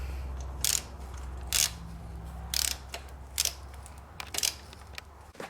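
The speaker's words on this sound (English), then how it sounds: "using a 17mm socket, remove the top bolt to the back suspension spring" A ratchet with a 17mm socket loosening the top rear suspension bolt on a Honda CRF250R motorbike, five or six short bursts of rapid clicking separated by pauses, close and clear with no talking.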